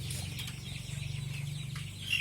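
Village chickens about three weeks old cluck and chatter steadily in a farm pen at night, a dense, continuous flock murmur with a few sharper peeps rising near the end.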